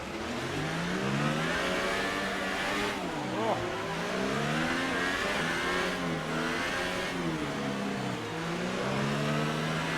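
Race cars in a racing league accelerate hard back to green-flag racing after a safety car period, several engines revving and shifting up through gears continuously at close range, under commentary.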